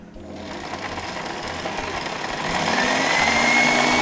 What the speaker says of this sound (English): we're beating the egg whites with the cream of tartar, and we're going to use a whisk